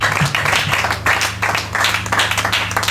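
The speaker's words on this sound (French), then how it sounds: "Sous vos applaudissements, s'il vous plaît" Dense clapping from a crowd at an association launch event, loud and continuous, over a steady low hum.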